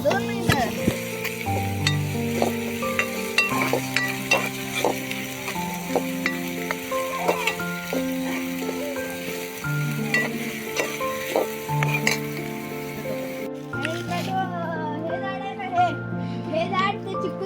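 Onion sizzling and frying steadily in a pan for a wet cashew curry, with stirring and utensil scrapes, while adults and someone talk over the cooking.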